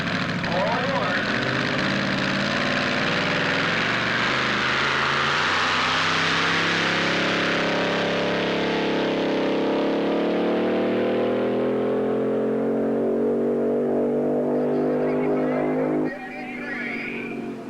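A 1,500 hp big block Chevy drag car engine, the Bud Sno King, roars loud and steady with a rising, droning pitch that holds for many seconds before cutting off abruptly, leaving a fainter background.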